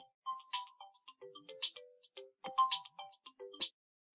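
Phone ringtone going off during a recorded lecture, a melodic electronic tune of short bright note bursts played alone in a quiet room.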